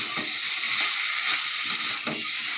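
Potatoes and soybean chunks sizzle loudly in spiced masala in a pan, a steady bright frying hiss broken by a few scraping stirs of the spatula, with no talking.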